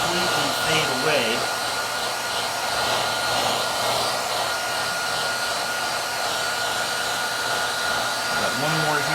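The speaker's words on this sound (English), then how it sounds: "You can see the heat gun is slowly making all those marks just kind of dull down and almost completely fade away." A heat gun blows steadily over the scuffed fender of a Saturn Sky Redline / Pontiac Solstice GXP, giving a constant, close, loud whooshing hiss with no pauses.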